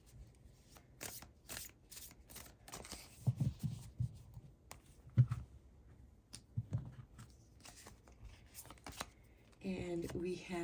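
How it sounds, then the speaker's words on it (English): Oracle cards are shuffled and drawn for a reading, a series of soft, quick riffling flicks and slaps at close range with quiet gaps between, followed by someone starting to talk. "We're first going to draw a couple oracle cards for you."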